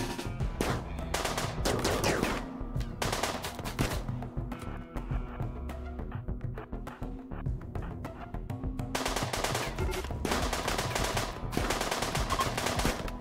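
An auto pistol fires in rapid, dense bursts during a RimWorld video game firefight, loud and sustained with short gaps between volleys, and no talking.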